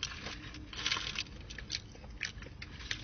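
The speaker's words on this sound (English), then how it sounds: "Feels like I'm biting into some pieces of Frito-Lays or something" Someone bites into and chews a crunchy Taco Bell taco, giving crisp, irregular crunches close to the mic at a fairly quiet level.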